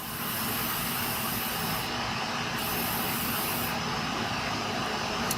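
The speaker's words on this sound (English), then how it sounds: "We want to hit that with a lick of a fluid film here." Steady aerosol hiss of Fluid Film rust inhibitor sprayed onto the rear brake parts of a 2010 Nissan Altima, loud and continuous with small shifts in tone, no voices.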